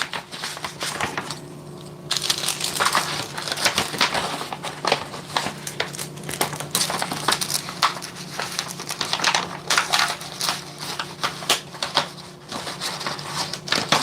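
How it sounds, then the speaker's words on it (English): Paper sewing pattern pieces and fusible interfacing are pushed into a paper envelope, making close, continuous crinkling, rustling and papery clicks with irregular bursts of handling over a steady room background. "All these are going to go in a little envelope."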